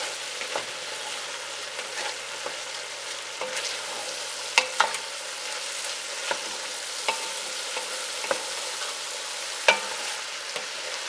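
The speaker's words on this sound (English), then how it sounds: "Let's get our seasoning mixed around." Seasoning stirred into sausage in a soup pot, a quiet continuous sizzle with scattered scraping clicks and a few sharper utensil knocks against the pot.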